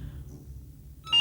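A telephone begins to ring near the end, a brief electronic trill that cuts in after a second of near silence, heard alone with no voices.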